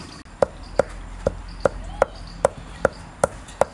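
Garam masala and black peppercorns being pounded together: sharp, evenly spaced thuds, about nine strikes in under four seconds, close and distinct over a quiet background.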